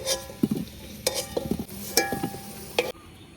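Potatoes fried light red in oil crackle faintly while a spatula knocks and scrapes against the pan in several sharp, separate clinks.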